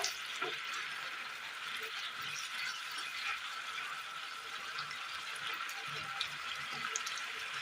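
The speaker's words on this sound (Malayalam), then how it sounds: "കറി നല്ലതുപോലെ തിളച്ച് കിട്ടിയിട്ടുണ്ട്" Okra curry bubbles in a pot, a faint, continuous simmering hiss with small soft pops and occasional light clinks of the vessel, no voices.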